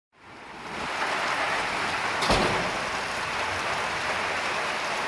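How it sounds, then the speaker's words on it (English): Rain begins falling steadily outdoors near an old Nissan Starlet project car, a broad hiss of drops on surfaces that swells in over the first second and then holds constant, with one brief sharper spatter midway. "I'm getting out of here because it's starting to rain."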